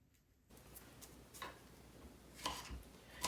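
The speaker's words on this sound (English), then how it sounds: "And I do have to chop these up." Strawberries being chopped on a cutting board, a few quiet, sparse knife taps, close but faint.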